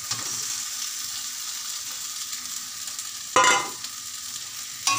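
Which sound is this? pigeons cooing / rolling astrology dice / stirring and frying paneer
stirring and frying paneer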